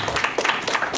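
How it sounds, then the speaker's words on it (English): Brief scattered clapping from a small group at a meeting about police body cameras, a quick patter of hands lasting about a second. "I think we should first just give Tammy a round of applause for answering all these questions."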